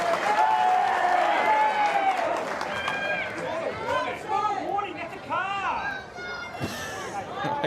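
A stadium crowd at a women's A-League football match between Canberra United and Perth Glory roars and shouts, calling for a card. Rising and falling voices and whistles rise out of a dense, continuous wall of crowd noise.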